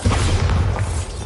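Bombarda blasting spell explosion in Hogwarts Legacy, a loud, deep booming blast with rumbling low end that sustains briefly, heard alone without talk.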